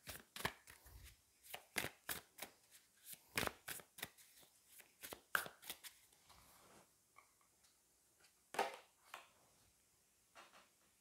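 Tarot cards being shuffled close by in a quiet room, a series of sharp, crisp riffles and taps at irregular intervals, with no voice over them.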